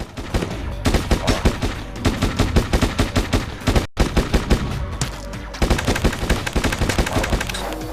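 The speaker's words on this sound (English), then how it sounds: "Let's rocket those guys." Rapid bursts of automatic gunfire and explosive blasts from the zombie shooter video game Gunner Z, loud and dense with a brief pause midway, continuous rattling volleys throughout.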